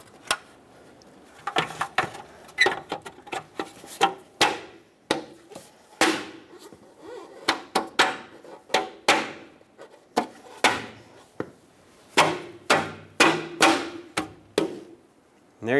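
Hubcaps being fitted onto a Ford E-350 Super Duty wheel, heard as a series of sharp, irregular knocks and taps, some in quick clusters and some spaced out, close and fairly loud.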